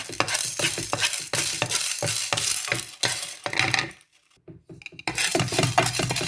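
Dried red chillies with urad dal roast in a pan, stirred briskly with rhythmic scraping and light sizzling, a brief near-silent pause before the stirring resumes.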